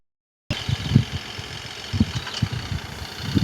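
An RV engine in the Roblox video game, starting after a brief silence into a low, steady mid-pitched rumble with periodic thumping pulses.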